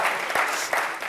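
Brief burst of audience applause at a programming conference talk on Ruby, close, dense clapping from a room of listeners lasting about a second.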